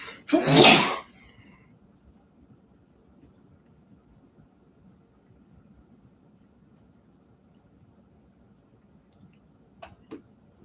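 A single loud, close sneeze bursts out at the start, followed by near silence with only faint room noise and a couple of small clicks.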